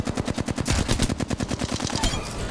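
Rapid automatic gunfire in the Apex Legends Gun Run mode, a loud, close burst of evenly spaced shots firing steadily for a couple of seconds, with a brief pause and more shooting at the end.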